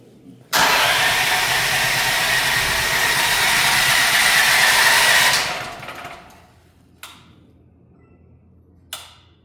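A small engine is pull-started and roars steadily for about five seconds before cutting out, followed by a couple of brief faint knocks.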